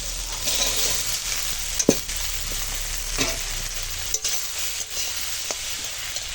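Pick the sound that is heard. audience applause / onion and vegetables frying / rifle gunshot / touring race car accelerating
onion and vegetables frying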